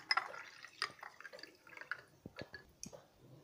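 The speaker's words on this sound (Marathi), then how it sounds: "थंड पाणी मी इथे टाकते।" Cold water poured into a glass of masala jeera drink splashes and drips in uneven bursts, with light glassy trickles and small spatters close by and no voices.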